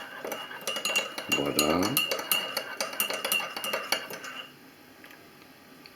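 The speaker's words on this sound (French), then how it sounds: "On mélange maintenant son thé. Le sucre est en train de fondre à l'intérieur." A metal spoon stirs mint tea with sugar in a teapot, a quick run of bright clinks and scrapes against the pot, then fading to quiet; a voice speaks briefly.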